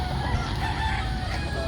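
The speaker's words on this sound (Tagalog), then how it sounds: "ang manok ni Don Juan. Talagang may mga pangsabong pa ho yan" A fighting cock crows loudly and close by in one continuous call over a steady background hum.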